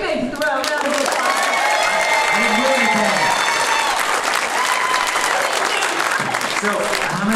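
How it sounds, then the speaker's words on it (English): A live audience breaks into loud, sustained applause with some cheering for chef Alton Brown. The dense clapping fills the whole stretch without a pause, while a voice speaks faintly over it. "let's give Alton Brown a great big round of applause"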